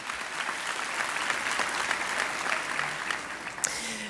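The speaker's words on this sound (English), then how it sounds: "I think we can give him another hand of applause" A graduation ceremony audience gives a loud, sustained round of applause, dense steady clapping from a large crowd with a sharp individual clap standing out near the end.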